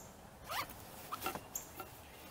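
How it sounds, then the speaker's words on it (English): A thick zipper on a Fjallraven rucksack is worked in a few short, close, rasping pulls with brief pauses between them, quiet and alone. "Oh, I want you to see how thick that zipper is."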